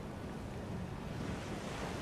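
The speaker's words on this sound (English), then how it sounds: "There's the waterfall" A waterfall in Liurnia in Elden Ring: a broad, constant roar of falling water with a windy, surf-like hiss, steady and unbroken with no voices.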